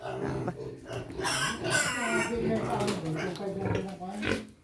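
Pigs and piglets grunt and squeal in their pen on a rural farm, heard close and fairly continuous while a person talks over them.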